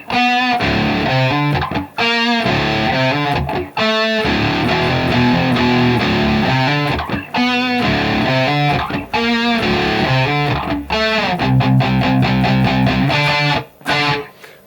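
Loud distorted electric guitar chords chugging in a fast, steady sixteenth-note riff from Rage Against the Machine's "Killing in the Name," with brief pauses between phrases.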